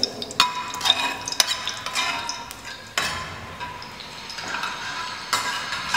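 Bay leaves, cardamom and cloves fry in hot oil in a pan for veg fried rice: a soft steady sizzle with sharp metallic clinks and scrapes of a stirring spoon against the pan, close and alone.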